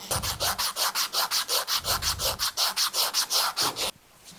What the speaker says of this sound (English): I'm just going to kind of go around it with the sandpaper until the adapter fits on there perfectly.